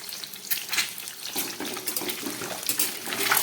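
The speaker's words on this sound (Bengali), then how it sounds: "ডিমগুলো একটু খুন্তি ডগা দিয়ে একটু ভেঙে দিচ্ছি।" Boiled eggs frying in a pan while a spatula tip breaks them apart: steady close sizzling and crackling with light scraping taps, no voices.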